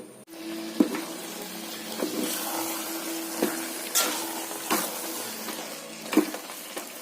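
Cooked elephant foot yam being stirred with grated coconut, likely in a pressure cooker pot, giving soft scraping and light clicking strokes at irregular intervals against a faint background hiss, with no talking.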